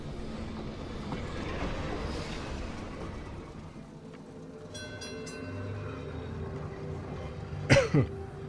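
A subway train rumbles past in the puzzle game Gorogoa, a steady low clatter of rail cars carrying on for several seconds, ending with a couple of short bright screeching bursts near the end.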